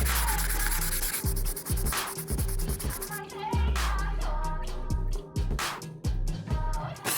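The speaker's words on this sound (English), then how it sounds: "The 3000 grit sandpaper only comes with 1 sheet and it has this like kind of foam texture to it." Copper fingerboard being sanded by hand with 3000 grit foam-backed sandpaper, a steady close rubbing and scraping that continues in uneven strokes, with faint background tones underneath.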